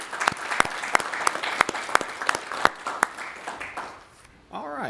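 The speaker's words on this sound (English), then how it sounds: "just show him a round of applause for his service on the commission." At a county planning commission meeting, a small group applauds with scattered, distinct hand claps for a few seconds, and the clapping fades out before a voice begins speaking.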